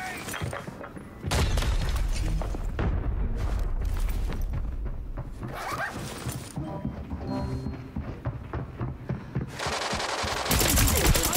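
Automatic rifle fire in a shooter video game, an AK-74N, rattling in dense bursts close and loud almost throughout, with brief pauses and a harsh final burst, while someone talks over it.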